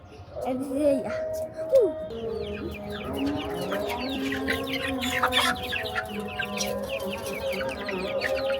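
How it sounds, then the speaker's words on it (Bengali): Several chickens cluck and squawk in a busy, continuous chorus while being fed, with a few louder calls standing out near the start and voices talking underneath. "চলেন গাইস আমরা মুরগিদের এগুলো খাওয়াই"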